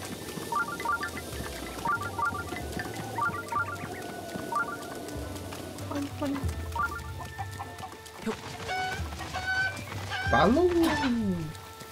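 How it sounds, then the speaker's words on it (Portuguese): Chickens cluck in Zelda: Breath of the Wild, short repeated clucks over game ambience, rising to a louder squawking flurry near the end; someone speaks Portuguese at points. "Galinha!"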